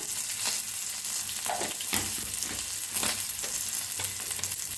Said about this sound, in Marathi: आता ओतूया थोडस तेल थोडंसं जिरं टाकायचं